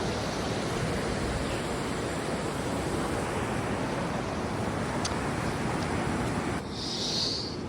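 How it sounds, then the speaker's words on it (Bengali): High-tide sea waves wash onto Cox's Bazar beach in Bangladesh, a steady broadband roar of surf with wind, continuous and close, with no one talking. "জোয়ারের সময় ঢেউ অনেক বেশি।"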